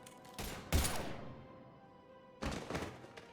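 Gunfire in Mass Effect 3: a couple of heavy, thudding shots close together, a pause with a fading ring, then another cluster of shots.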